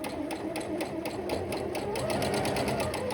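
A sewing machine runs steadily while stitching a straight line along the edge of jersey knit fabric, making a fast, even mechanical chatter that continues without pause.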